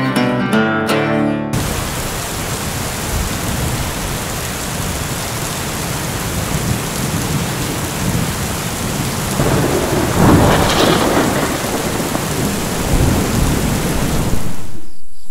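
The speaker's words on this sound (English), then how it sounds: "it's still warm, but it's raining like crazy." Heavy rain pours down in the Philippines, loud and steady, as rolling thunder swells near the end, with no voices.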